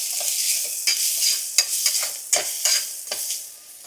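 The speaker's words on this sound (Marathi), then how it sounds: "मसाले परतवून घेऊया." Spices sauté in a hot pan with a bright, continuous sizzle broken by repeated scraping strokes of a spatula, close and fairly loud with no talking.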